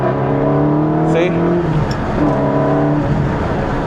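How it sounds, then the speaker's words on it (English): Car engine intake heard through an open window while driving, a loud rising whine and growl that drops at a gear shift partway through, then builds again over road noise. "if I roll down the window, you'll be able to hear the intake"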